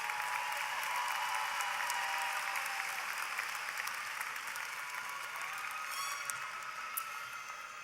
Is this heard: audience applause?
yes